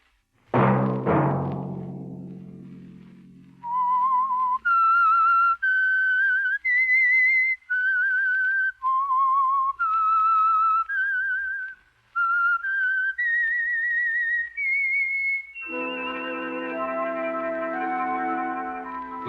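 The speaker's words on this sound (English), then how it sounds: "Let that whistle be your signal for the Signal Oil program, The Whistler" A lone whistler performs the signature tune of The Whistler, a 1951 radio drama for Signal Oil, as a sustained, wavering melody of held notes, opening after a brief orchestral sting and ending under swelling music.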